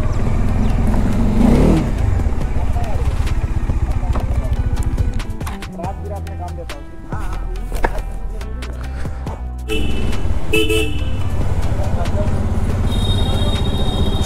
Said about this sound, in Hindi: और राजा गाड़ी जा रहा है टेस्टिंग में